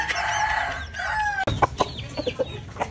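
Chickens on a farm are heard: a rooster's long drawn-out crow rings out first, followed by a string of short, sharp clucks at an uneven rhythm, fairly close and with no talk.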